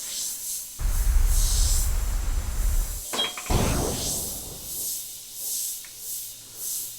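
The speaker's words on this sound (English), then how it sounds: "Press down for air and just blast it out a couple of times." A Sparmax SP.35 airbrush blasts air to clear dried paint, giving a loud rushing burst of about two seconds, then a second, shorter blast.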